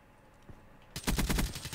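A silenced KN-44 assault rifle fires in Black Ops 3, a sudden rapid burst of muffled shots after a near-quiet lead-in, with no voices.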